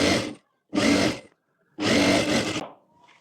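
An electric sewing machine stitches jumpsuit fabric in three close, whirring bursts of stitching separated by short pauses, the last burst the longest.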